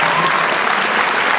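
Dense, loud applause from the audience at a Giffords-Kelly political debate, a continuous close wall of clapping throughout.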